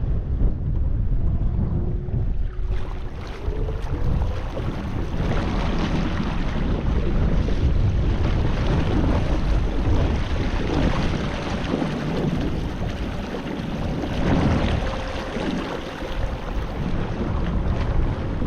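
An electric Newport NK180PRO kayak trolling motor drives across open water, its faint whine buried under constant rushing wind buffeting the microphone and the wash of the water throughout.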